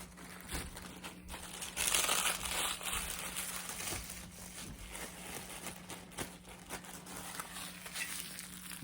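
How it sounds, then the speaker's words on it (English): Crunchy Grabba tobacco leaf being crushed by hand inside a plastic bag, giving continuous close crinkling and crackling with a louder burst early on, over a steady low hum. "You hear that? You hear that crunch?"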